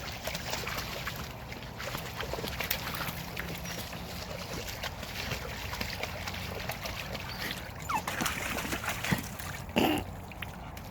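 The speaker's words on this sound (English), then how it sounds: "There is a lot of water running along that little brook." Water runs along a small brook on a countryside walk near Hockley Heath, a steady outdoor trickle and wash with faint breezy rustle and a few louder splashes near the end.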